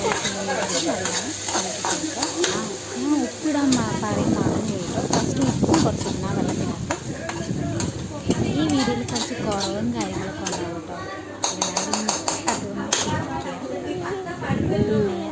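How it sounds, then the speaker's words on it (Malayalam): Yippee noodles stirred in a pan with a busy sizzle and repeated clattering strokes of a utensil against metal, close and loud, while a person talks over most of it. "നല്ല ഇളക്കി കൊടുക്കണം"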